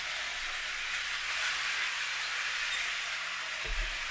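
A model train runs along its track with a faint, steady hiss and soft rolling rumble, and a brief low thump near the end.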